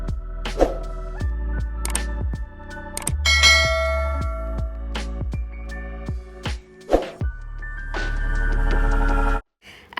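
A notification bell chimes in a bright sound effect, a series of ringing dings and struck tones repeating across the clip over a steady low hum, with no speech.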